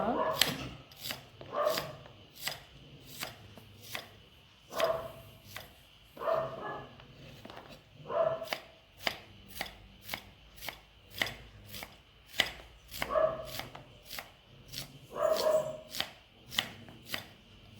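Rhythmic knife chops slicing onions on a cutting board, quick and close, in bursts with brief pauses, while a dog barks faintly in the background.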